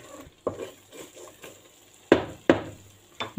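Spicy cheese pasta with coriander being stirred in a pan: a spoon scrapes and taps the metal in a few quick strokes, with a faint sizzle underneath and several sharper knocks near the end.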